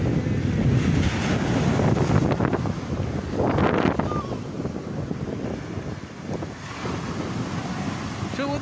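Waves and wind at Ajman sea beach in the UAE, a loud blustery rush of wind over the microphone with surging surf swells close by.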